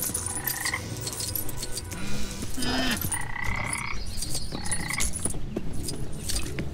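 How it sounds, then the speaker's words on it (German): Frogs croak in the Lego Jurassic World video game, repeated ribbits mixed with jingling game sounds and clinks over a steady ambient background, no talking. "Frösche sind so cool."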